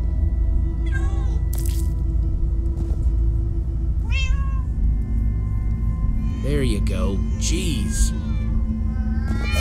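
Several cats meow in the Minecraft: Story Mode video game, short rising and falling mews at intervals over a low ambient game background, with a brief line of spoken dialogue in between.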